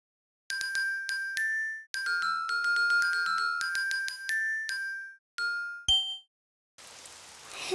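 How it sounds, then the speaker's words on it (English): Rain in a cartoon scene sets in after a run of bright chiming musical notes, a soft steady patter of rainfall lasting about a second at the very end. "Oh, it's raining outside."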